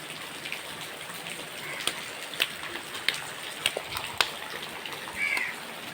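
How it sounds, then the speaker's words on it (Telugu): Heavy rain falling outdoors, a constant hiss of downpour with scattered louder drips and splashes landing nearby at irregular intervals. "ఓ పక్క బయట వాన ఫుల్ వర్షం."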